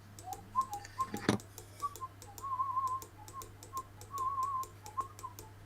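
Rapid, faint clicks from a computer keyboard and mouse tick steadily throughout, mixed with quiet whistling tones in the background.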